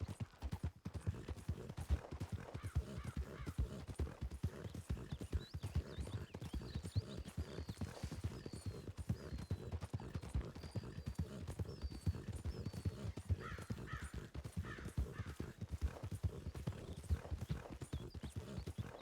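Horse hooves clip-clop in a Western role-play video game, a fast, steady rhythm of hoofbeats running continuously at moderate distance, with an occasional whinny and faint background noise.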